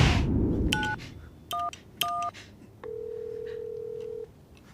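Telephone keypad tones sound as three numbers are dialed, short paired beeps in a quick uneven rhythm, followed by one longer steady tone, close and clear with no talking.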